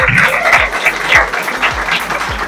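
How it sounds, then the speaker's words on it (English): An audience claps together at an engineering college's Engineers Day celebration, making a loud, steady patter with a few low thumps recurring throughout. "So, one round of applause."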